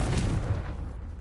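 A Confringo fire spell detonates in Hogwarts Legacy, a dense low boom with crackling burst that rolls on for over a second before tailing off.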